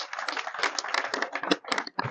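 A village gathering honouring a panchayat member breaks into brisk clapping from a crowd, close and uneven, with a short dip near the end before the clapping resumes.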